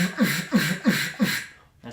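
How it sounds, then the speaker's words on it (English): A duck call blown with too much grunt gives four rough, buzzy, evenly spaced honks, close and moderately loud, with a brief extra sound at the very end. "here's what the call sounds like with too much grunt"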